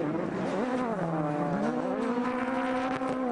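A 1.6 litre turbo Ford Fiesta rally car at the Swedish Rally roars past on snow, its loud engine note climbing through the gears in a continuous close pass.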